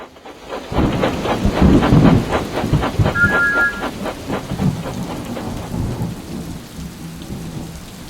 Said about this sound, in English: Oh, bother this rain. It's only rain now, Henry.